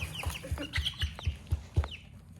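Chickens cluck in a coop in a quick series of short, close clucks, with a few higher chirps over them and no talking.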